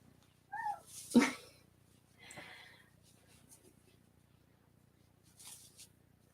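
A pet cat meows a couple of times close by in a quiet room during a weaving session, short wavering cries followed by faint rustling and small noises.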